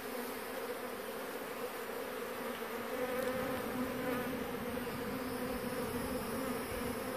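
Honeybees in a colony being removed from a mobile home in Florida buzz continuously, covering the comb in a dense, steady drone at close range for several seconds.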